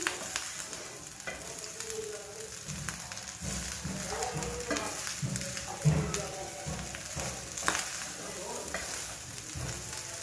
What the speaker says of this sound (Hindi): मैंने 1 प्याली चीनी ऐड की है और मैं इसको अच्छी तरह से मिक्स कर लूँगी।